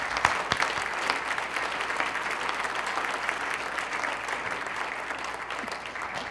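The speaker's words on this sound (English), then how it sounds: "Let's give our panel another round of applause." Steady applause from a conference audience for a panel, dense clapping that holds evenly throughout without a break.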